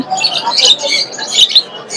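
Birds squawking in a crowded Friday bird market in Mirpur 1, Dhaka, among parrots, cockatoos, pigeons and dogs: shrill, overlapping calls repeat throughout at close range with steady crowd noise underneath.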